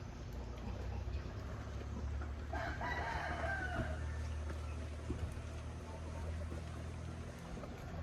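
A rooster crows once at a distance in the open outdoors on a cold morning, a short rising call rising above a steady low background rumble.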